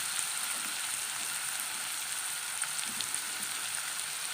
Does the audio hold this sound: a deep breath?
no